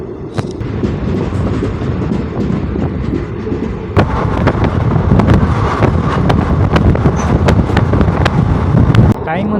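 Passenger train hauled by a WAG-9 electric locomotive running on an Indian line, a steady loud rumble with wind buffeting and repeated sharp clicks of wheels over rail joints throughout.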